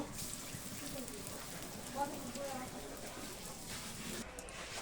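Garlic cloves sizzling in hot oil in a home kitchen before greens are added, giving a steady, fairly loud crackling hiss that runs through the whole stretch with small pops.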